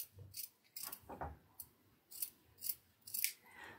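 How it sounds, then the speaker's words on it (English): Small tabletop scissors trim a fabric seam allowance, giving about eight short, crisp snips in an uneven rhythm, very close and quiet, with no talking. "And really good small tabletop scissors are perfect."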